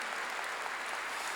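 Church congregation applauding, a dense, uniform wash of many hands clapping together, steady and somewhat distant.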